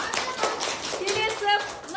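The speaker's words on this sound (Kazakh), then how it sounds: "Әлбиге шапалақ ұрыңдаршы." Children in a classroom clap for a pupil during a Kazakh language lesson, a short burst of uneven, close applause from small hands with faint young voices mixed in.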